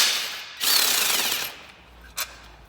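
A power tool briefly spins a fixing loose while a MINI R53 supercharger is serviced, a harsh bright whirr of under a second standing out in a quiet workshop, followed by a short sharp tick.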